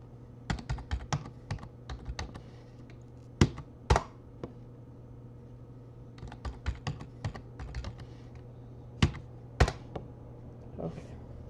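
Bursts of clicky keystrokes on a computer keyboard, typed in short irregular runs with quiet gaps between them over a low steady hum, close and crisp.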